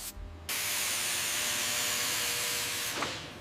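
Spray coating hisses steadily onto metal mating surfaces before bolting on a hazardous lighthouse construction site, a continuous close, fairly loud spray lasting nearly three seconds, then tapering off alone.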